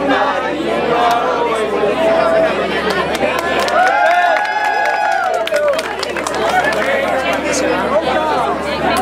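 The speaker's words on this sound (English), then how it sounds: "The mad Spanish crowd finally gets me" A noisy Spanish crowd at a red carpet event in Madrid, dense overlapping chatter and excited voices from many people, loud and continuous with shouts rising above the babble.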